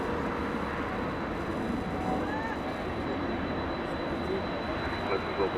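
A Western Global Boeing 777, flight 7566, departs LAX bound for Saudi Arabia with a continuous jet engine roar, steady and fairly distant, mixed with a faint high whine and soft voices.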